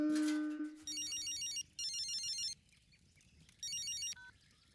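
A telephone rings in a Hindi-dubbed film scene, with three bursts of electronic trilling separated by short gaps, loud and close, heard alone without voices.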